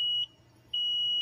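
Electronic beeps from the control board of a Takeuchi TL8 compact track loader: a steady high-pitched tone sounds, cuts out briefly, then resumes twice. Each beep is sustained, clean and fairly loud, with faint low hum underneath.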